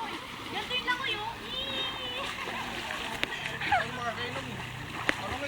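Water splashing and sloshing as people swim, with light irregular splashes over steady background water noise and children's voices calling and talking throughout.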